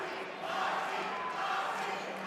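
A fight-night crowd at a Versus Fight Night 14 bout roars in a steady, broad wash of cheering and shouting that swells after the first half second and holds loud for a couple of seconds.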